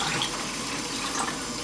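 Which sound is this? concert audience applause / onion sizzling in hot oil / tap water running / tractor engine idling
tap water running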